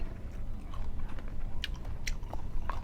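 Someone bites and chews crunchy sago palm weevil larvae dipped in seafood sauce, with close, wet crunching and sharp snapping bites repeating in an uneven rhythm.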